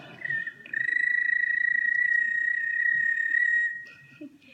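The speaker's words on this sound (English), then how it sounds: "The American toad." An American toad gives a long, steady high-pitched trill lasting about three seconds, clear and fairly close, with brief softer chirps before and after.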